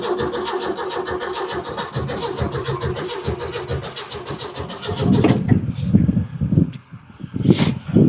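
A 1966 Ford truck engine cranks repeatedly in cold weather, around the low 20s, with the choke pulled; a steady rhythmic starter whir runs for several seconds, then sputters and brief rough catches break in loud and close.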